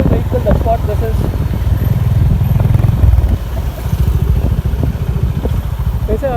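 A Honda H'Ness CB350 motorcycle on a test ride keeps up a steady, rumbling exhaust thump throughout, loud and close, with a voice talking over the engine.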